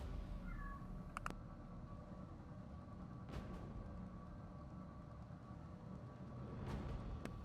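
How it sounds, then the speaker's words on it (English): A pet cat gives a few faint, brief meows at home, well apart, over a steady low background hum. "Sorry, give me 1 second to try to figure out what the heck is going on with my cat."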